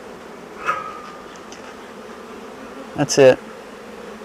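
Honeybees during a hive split buzz in a faint, steady drone, with a brief louder buzz near the middle and a short spoken phrase over it.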